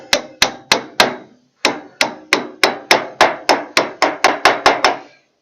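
A hammer drives a bearing cap onto a trailer's stub axle with about fifteen sharp metallic blows, loud and close, in quick steady bursts after a short pause.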